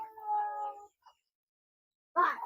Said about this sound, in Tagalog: Pati yung aming mga pusa.